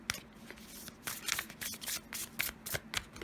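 Cards are shuffled by hand in a series of quick riffling bursts and soft slides, close and fairly quiet, with brief pauses between them.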